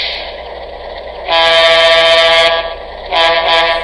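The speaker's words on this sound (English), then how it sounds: "And you can hear how that air horn has changed." An O scale RS3 diesel model locomotive's sound decoder sounds its air horn, starting with a low idle hum, then a loud sustained chord blast, a short pause, and a second shorter blast.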